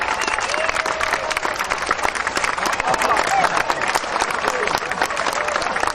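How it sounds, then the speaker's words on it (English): Audience applause at an outdoor agricultural show after a display skydiving act, dense sustained clapping from a large crowd throughout. "Big round of applause, ladies and gentlemen, for son Jay Webster"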